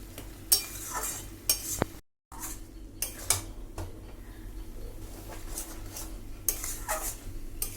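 Metal spoon scraping and clinking against a pan while stirring a bottle gourd and shrimp curry, irregular sharp taps and scrapes over a soft low background, close and fairly quiet, no talking.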